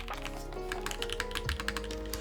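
Keys clack in a quick, uneven run of typing on an Aaru Divine TKL mechanical keyboard fitted with keycaps, each stroke crisp and close with a light thock underneath.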